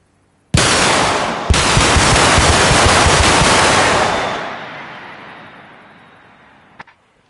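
Loud, close burst of sustained rapid automatic gunfire in the ARMA Reforger military game, a brief pause and then a longer stretch of fire, trailing off into a fading echo and a last faint pop.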